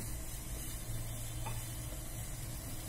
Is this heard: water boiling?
yes